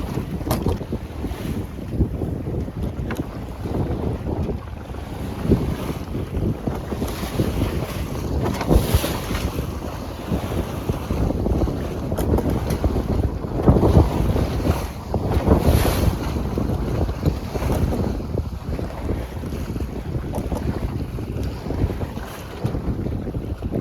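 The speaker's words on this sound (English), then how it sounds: "Here's the waves from the ferry boat." Wake from a passing ferry slaps and washes against the hull of a 24-foot San Juan sailboat at sea, with steady wind buffeting the microphone and irregular splashing surges and no talk.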